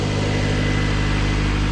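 An AWD turbocharged Honda CRX runs with a fresh, quieter exhaust, giving a loud, steady, close-up engine drone with an even low rumble and no revving changes.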